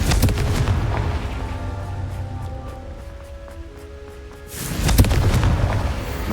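Confringo fire spell explosion in the Hogwarts Legacy video game, a booming burst over a rumbling game soundscape with one sharp blast near the end.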